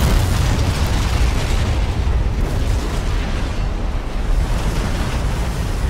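A big explosion in the Resident Evil 2 remake roars out as a loud, sustained, broadband rumbling wash, heavy in the lows and steady throughout, with no talk over it.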